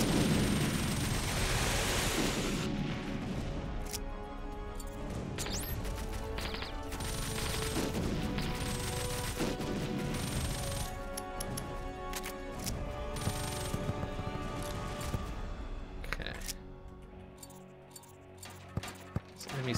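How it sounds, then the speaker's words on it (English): Rapid bursts of explosive blasts from a cluster grenade launcher in the video game WarSphere, dense and continuous with overlapping booms and crackling detonations, loud throughout before thinning near the end. "Cluster grenade launcher."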